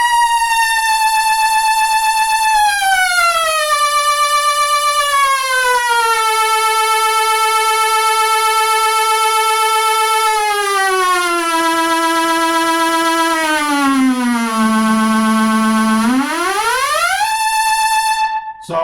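MG-1 Plus VST synthesizer producing a creepy, haunting theremin-like tone, a single loud sustained voice gliding slowly between pitches, dipping low before sweeping back up, heard alone.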